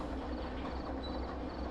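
A train rolling along in the railway simulator Derail Valley gives a steady, continuous rumble with faint rhythmic clatter, even and unbroken throughout, with no talking.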